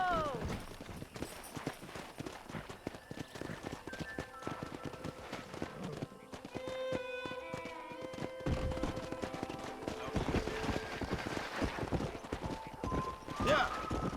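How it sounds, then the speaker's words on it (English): Wild horses gallop with rapid, continuous hoofbeats, joined by loud whinnies and neighs near the end, over a busy soundtrack with occasional voices, in the video game Red Dead Redemption. "there's a pack of wild horses nearby"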